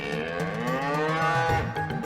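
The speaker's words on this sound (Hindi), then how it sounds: "हमें तो केवल किसी वृषभ के रंभाने का स्वर सुनाई दे रहा है" A bull lowing: one long, loud, close moo with a rich harmonic tone that rises slightly and holds steady, heard alone without talk.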